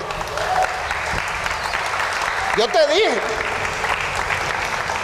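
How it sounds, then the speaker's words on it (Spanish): Audience applause at a church gathering, steady crowd clapping throughout with a voice speaking briefly over it midway. "Gloria a Dios por esos aplausos que te tragaste."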